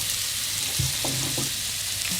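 Black pudding and onion frying in a little butter, a dense, even, close sizzle throughout with a few faint pan knocks, no voices.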